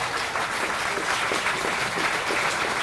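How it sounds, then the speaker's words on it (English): Steady applause from an audience at a Pecha Kucha presentation night, dense and continuous clapping filling the room throughout, no voices standing out. "now a round of applause for Taco."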